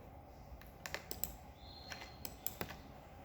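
A computer keyboard and mouse click as the Ctrl key is held and a sentence is clicked in business software: a quick irregular run of sharp, fairly soft clicks in a quiet room.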